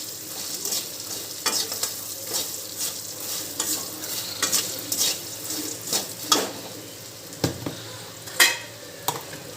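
Bhel puri is tossed with fried peanuts and whole fried ingredients, giving a run of close rustling, scraping stirs and light clinks in a bowl, repeated in uneven bursts with no talk.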